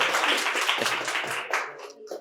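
An audience claps loudly for a correct answer at a quiz competition held at a medical college and hospital, a dense burst of applause that thins out toward the end.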